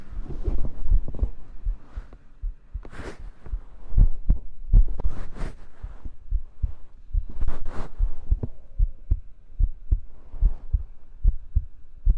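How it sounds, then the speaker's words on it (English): A human heartbeat picked up by a microphone held close in a bedroom, a steady run of deep, soft thumps, loud and near, with bursts of rustling handling noise over the top. "I don't think I've done heartbeats live in, I don't even know how long."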